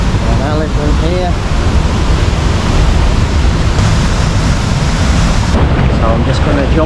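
Water at Sumampan Waterfall in Bali rushes in a loud, close, unbroken roar, with faint traces of a voice briefly audible beneath it.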